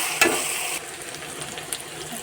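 A paste of garlic and cumin, with a little ginger mentioned, frying in hot oil, a steady close sizzle that opens with a brief splatter burst and settles into even hissing, with no talking.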